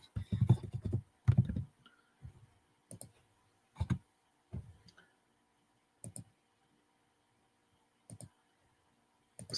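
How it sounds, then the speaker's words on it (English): Sparse, hesitant typing on a computer keyboard, with a short burst of quick keystrokes at first, then isolated clicks spaced by quiet gaps, faint and close, with no voices. "Can't even type."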